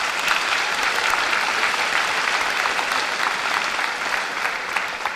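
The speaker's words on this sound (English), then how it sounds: "give those FFA students a round of applause" A high school graduation audience applauds FFA students, a steady, dense wash of clapping from a large crowd heard at moderate distance, lasting the whole stretch without voices.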